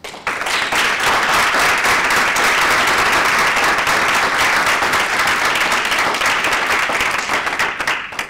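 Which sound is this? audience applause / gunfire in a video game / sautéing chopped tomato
audience applause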